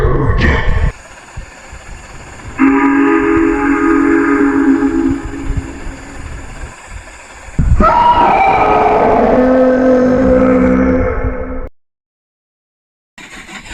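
A train roars past while a shrill steam whistle blows in long sustained blasts, loud and near, then cuts off abruptly into silence.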